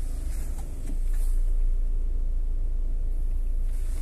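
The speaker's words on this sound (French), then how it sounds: "je mets le moteur en route" A BMW Mini R50's engine catches and settles into a low, steady idle rumble, close by and continuous, with no talking.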